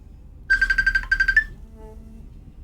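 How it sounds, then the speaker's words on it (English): A phone ringtone chirps in a quick run of repeated high electronic notes, two short bursts in a row, then stops, heard alone and fairly close. "Oh, Dad's ringing."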